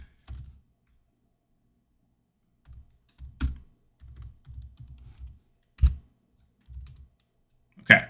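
Bursts of typing on a computer keyboard while code is entered for a Fortran program, short clusters of quiet key taps separated by pauses, with a few sharper, louder clicks standing out.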